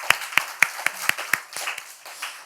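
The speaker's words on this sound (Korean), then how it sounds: "하나님께 영광의 박수를" A handful of sharp claps in a slow, even rhythm, then scattered lighter clapping trailing off, from a church congregation.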